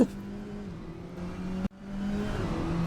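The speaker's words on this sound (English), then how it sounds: "What's the noises in those cars? Like they are horrible." Race car engines drone in a racing video game set at Donington Park, a steady buzzing hum with a sudden cut and resumption midway, fairly faint and without speech.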